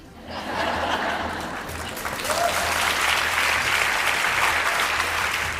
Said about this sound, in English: I wish that didn't get an applause